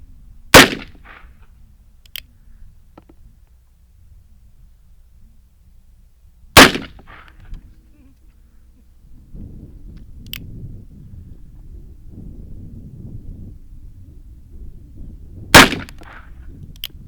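Three loud, sharp gunshots from an Uberti Remington 1858 New Model Army revolver, spaced several seconds apart, each with a brief ringing echo, against quiet outdoor background.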